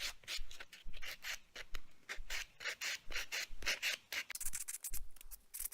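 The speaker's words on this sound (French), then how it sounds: "Je lime le dessus pour bien se façonner, comme l'autre main, exactement pareil que l'autre main." A nail file rasps across the tops of gel nails in steady back-and-forth strokes, close and clear, with quick repeated scraping bursts and no talking.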